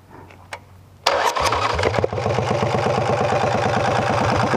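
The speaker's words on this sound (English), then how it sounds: "Let's see if we can just do this and fire up." A four-cam motorcycle engine cranks and fires after a short quiet pause, then settles into a loud, steady, rhythmic idle that keeps chugging to the end.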